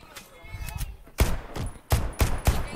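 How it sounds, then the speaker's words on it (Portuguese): Gunfire in a video game: a few soft shots, then a series of loud, sharp reports fired in quick uneven bursts, with faint speech underneath. "Estão atirando à toa."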